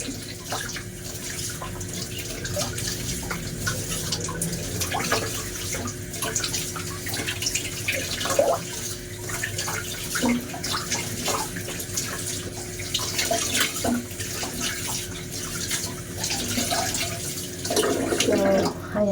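Water runs steadily from a low household faucet as someone washes their face, a continuous close splashing stream with small shifts and drips throughout, no talking.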